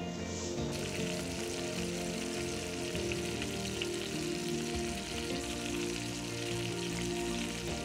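Elk meatballs fry in a pan with a steady, close crackling sizzle and faint popping spatter, continuous and even throughout with no voices.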